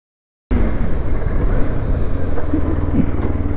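A Pulsar RS200 BS3 motorcycle, about nine years old, roaring steadily at speed, a loud continuous drone with wind rush, starting abruptly after a brief silence.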